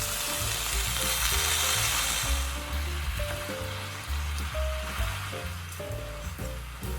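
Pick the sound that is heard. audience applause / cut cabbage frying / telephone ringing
cut cabbage frying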